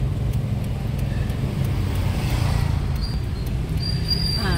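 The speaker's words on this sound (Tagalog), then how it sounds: "Traffic kayo." Road traffic in the late afternoon on the way back from a beach resort, heard as a steady, close, low engine rumble that continues throughout with no talking.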